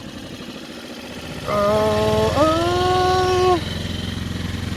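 A small 4–6 hp outboard boat motor runs steadily with a buzzing, tonal drone that briefly rises in pitch as it is put into gear, loud and close, with a short exclamation from a person.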